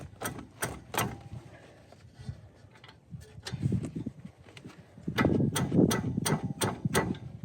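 A wrench smacks a Subaru Outback brake component in a series of sharp metallic knocks, three quick ones, a pause, then a faster run of about six hits, close and loud, with a dull clunk between the bursts.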